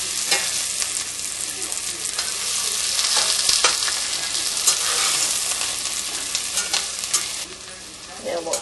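Garlic sizzles steadily in a hot pan while being stirred and pushed around, a continuous close frying hiss with scraping from the utensil, no talking, during a venison tenderloin fillet cook.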